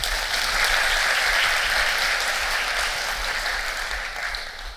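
Audience at a Japanese programming talk comparing Perl, Python and Ruby speed claps to vote in a quiz, a dense, steady burst of applause filling the room for about five seconds and fading slightly at the end.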